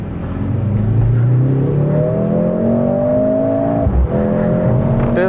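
A turbocharged Mercedes-AMG engine pulls hard and loud, its steadily rising roar running close and continuous until a brief dip at an automatic gear shift, then climbing again.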